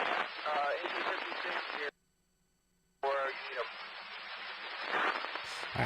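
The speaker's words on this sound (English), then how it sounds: "That's why the scanners are so scratchy." A police radio scanner crackles with scratchy, hissing voice chatter about a CHP chase of a stolen MTA car, cutting out briefly for about a second before the noisy transmission resumes.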